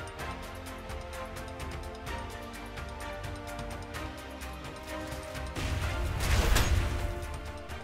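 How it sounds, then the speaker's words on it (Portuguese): Repetitive mechanical clanking runs throughout the Outward game, then a loud burst swells and crashes like an explosion before fading back into the steady rattling. "Vamos ver ele explodir."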